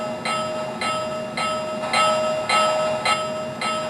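Milwaukee Road 4-8-4 Northern model train sound system playing steam locomotive chuffs with a steady tone, regular loud beats repeating about every half second while the train stands still.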